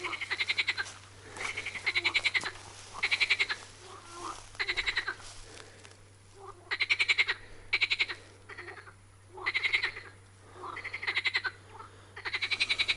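Loud, rhythmic croaking from toads on the bank of the Volga River, repeated trilling bursts about a second long with short pauses between, close and unbroken by talk.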